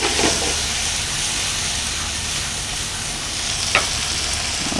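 Black beans, rice and queso fresco with salt and pepper sizzle loudly in a pan over sauteed onions and pepper, a close, dense hiss of frying with a couple of brief stirring scrapes and no talk.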